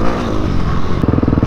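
Engine of a Beta dirt bike being ridden, a loud, steady motor drone with rough low rumble that turns choppier and pulsing near the end, no talk.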